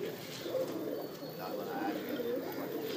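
Pigeons arriving at a backyard loft, with soft cooing and light bird calls over a steady outdoor hum; a voice talks intermittently.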